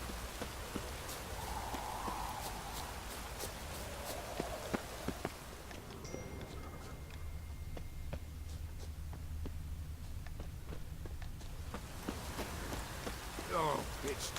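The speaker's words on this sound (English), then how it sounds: "Oh, it's drizzling." Light drizzle falling in The Witcher 3, a steady soft patter with faint scattered drops and a few footstep-like taps, continuous and fairly quiet throughout.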